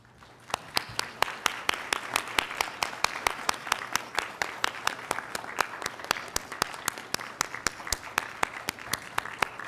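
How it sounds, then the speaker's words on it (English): A crowd at a university commencement ceremony applauds continuously, with one close, evenly spaced clap ringing out in a steady rhythm above the rest. "would you please allow our graduates to stand and applaud their family, mentors, and friends"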